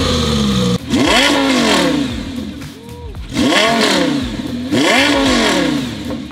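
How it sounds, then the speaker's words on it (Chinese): The V10 engine of a Lamborghini Gallardo LP570 Superleggera revs hard three times with no rev limiter, each rising wail swooping up and falling back to idle, loud and close, with a few words spoken briefly. "我知道大家想听这台车的声浪"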